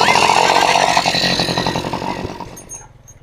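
A motorcycle engine revving loudly up close, rough and buzzy, then fading away over a few seconds, with people talking over it.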